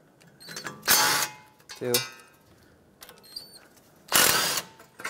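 A ratchet spins out the 10 mm backing plate bolts on a 2012-2020 Ford Focus front hub in short, buzzing clicking bursts, three in about five seconds. Each burst is close and separated by quiet pauses, with a brief spoken count between them.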